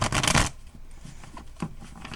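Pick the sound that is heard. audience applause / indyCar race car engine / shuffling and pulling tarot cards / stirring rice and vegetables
shuffling and pulling tarot cards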